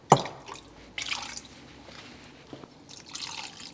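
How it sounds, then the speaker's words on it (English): Water is tipped into jars in a kitchen to rinse out leftover sauce, heard as a few short splashes and drips, close and fairly soft. "And then I'll just chuck some water in the jars and get whatever's left of them out."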